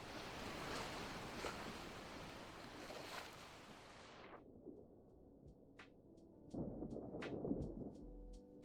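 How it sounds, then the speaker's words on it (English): A storm rolling in at sea in a sailing video game: broad surf and wave noise with low thunder-like rumbles that cut off midway, leaving quieter water and a few short tonal ticks before another surge of rough sea. "I just heard the start of a storm."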